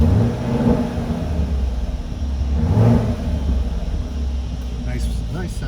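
A 2018 Chevrolet Camaro 2SS idles steadily with a deep low rumble, heard from outside the car at moderate distance with a slight swell near the middle and faint background noise.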